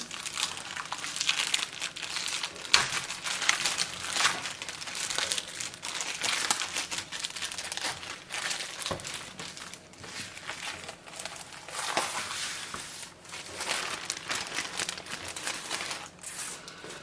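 Plastic wrapping around a SCRYE collectible card game magazine crinkles and crackles nearly nonstop, close and fairly loud, with bursts of rustling and occasional sharper tearing snaps, and no voices over it.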